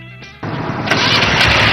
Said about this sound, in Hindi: अरे ये तो खुद ब खुद स्टार्ट भी हो गई।